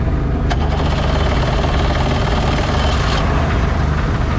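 Boat engine running on a trip off Zanzibar, a loud, steady mechanical drone with a rough knocking texture that fills the whole stretch without pause.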